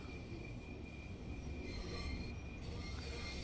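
Wheel flanges squeal steadily and loudly in Train Sim World 2 as a VIA Rail passenger train arrives at a station, over a constant rumble of rolling stock.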